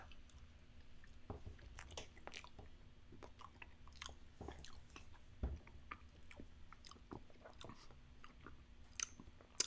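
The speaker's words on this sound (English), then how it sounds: "I'm gonna put it right in my mouth" Halo Top peanut butter cup ice cream being eaten up close, with soft wet chewing and smacking in steady bursts and occasional louder bites and crunches, quiet and with no talking.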